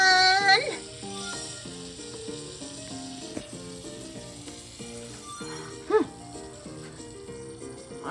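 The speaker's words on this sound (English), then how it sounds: "sizzling the steak" Steak sizzles faintly in the video game Cooking Mama under a bright, looping game music track, with a couple of short chime-like effects.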